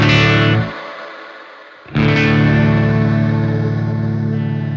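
Meris Mercury X modular reverb on a hazy modulation patch: a loud, thick wash of sustained tone that dies away into a short near-silence, then returns swelling with a shimmering, wavering tail.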